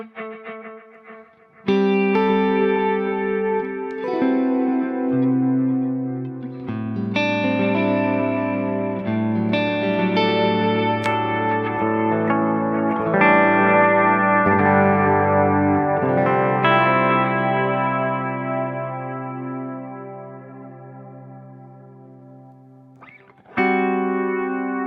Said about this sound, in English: add the snare feature, which kind of diffuses the repeats a bit